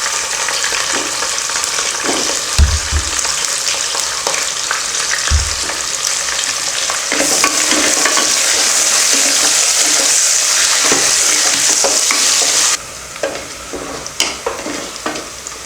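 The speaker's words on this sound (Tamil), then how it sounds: "வெங்காயம் நல்லா வதங்கிடுச்சு." Onions sautéing in a pan for kuska make a loud, continuous close sizzle with stirring scrapes and two dull knocks early on, swelling brighter midway before easing slightly.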